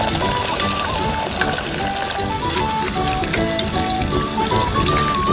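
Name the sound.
breaded minced meat frying in hot oil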